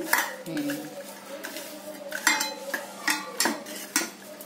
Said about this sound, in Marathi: हे झालं की छान असं हाताने मिसळून घ्यायचं